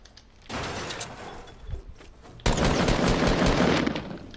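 Dense Fortnite gunfire from a hand cannon and pump shotgun, a sustained roar of rapid shots that drops briefly and then surges louder, with crashing and breaking impacts mixed in, no voices.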